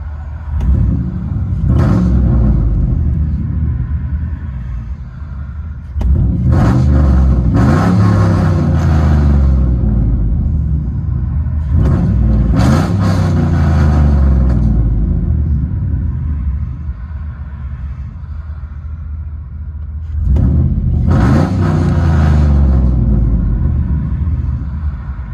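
A Chevrolet Silverado 6.0 with true dual exhaust revs hard in several long, deep rumbling pulls, each rising and falling, loud and close, with short idling gaps between them.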